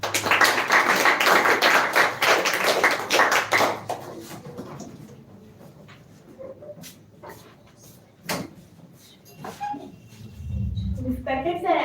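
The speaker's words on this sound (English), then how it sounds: "So clap for Mr." Students in a spoken English class applaud a classmate called up to speak: a few seconds of close, brisk clapping that fades into scattered taps and handling noises, with a low rumble near the end.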